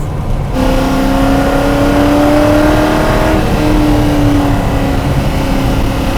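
Ford GT40 engine idling, a loud, close, steady rumble holding a low, even tone with a slight drift in pitch partway through.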